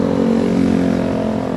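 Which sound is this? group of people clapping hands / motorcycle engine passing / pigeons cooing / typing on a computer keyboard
motorcycle engine passing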